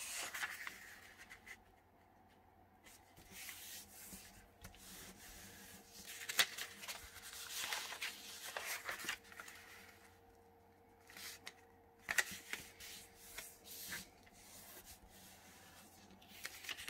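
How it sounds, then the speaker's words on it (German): A sheet of paper is folded twice into a book fold: quiet crisp crinkles, rubs and creasing swipes come in bursts with short pauses between, close and soft, with no talking. "Wir falten das Papier wieder zweimal zu einem Buch."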